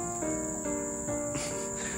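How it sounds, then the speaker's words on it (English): Dense Malaysian jungle chorus of insect-like trills and frog calls with bird notes, steady and continuous throughout, several layered tones over a constant hiss, no voices. "Just hear the sounds of frogs and birds."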